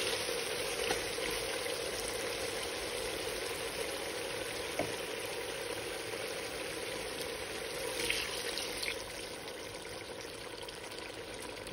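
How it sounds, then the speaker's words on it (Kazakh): Cold water from a cup poured into a pan of frying meat with garlic and tomato, giving a steady, close hiss and bubbling sizzle that holds evenly throughout with no talking. "Енді бір кесе суық су құямыз"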